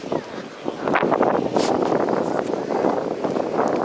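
Strong gusting wind buffets the microphone at a seaside spot, a continuous loud roar with surging gusts and no clear voice over it.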